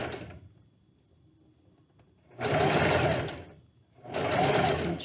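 A sewing machine stitching elastic onto a fabric mask runs in two loud, close bursts of steady whirring with a quiet pause between, without talking.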